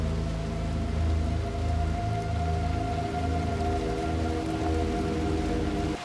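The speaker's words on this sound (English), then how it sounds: "that rain is pouring down" Heavy rain pours down steadily in the video game Little Nightmares II, a dense continuous hiss with low rumbling ambience and sustained tones beneath, loud and unbroken throughout.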